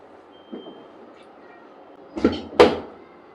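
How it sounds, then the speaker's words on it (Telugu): A faint rattle, then two sharp close thuds in quick succession as a Bosch dishwasher door swings shut and latches in a quiet room. "మనము ఇప్పుడు దాన్ని డోర్ క్లోజ్ చేసేయాలి"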